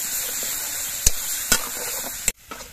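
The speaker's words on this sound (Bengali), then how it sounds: "এবার পেঁয়াজের পেস্টটা নাড়াচাড়া করে কিছুক্ষণ ভেজে নিতে হবে।" Onion paste stirred and frying in a pan, a steady hiss with a few sharp clinks of the spoon against the metal before the sizzle cuts off.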